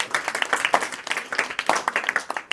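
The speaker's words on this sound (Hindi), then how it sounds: "इनके लिए जोरदार तालियां होना चाहिए।" A small group claps for a student at a math formula quiz in a classroom, a brief burst of lively, uneven hand claps at moderate loudness.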